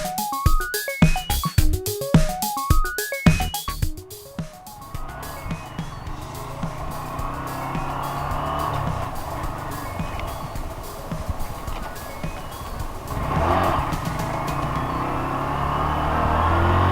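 A 2019 Honda Grom small motorcycle out on a snowy test ride, its engine revving and droning steadily after a burst of short rhythmic beeps at the start, fairly loud and continuous, with no talk.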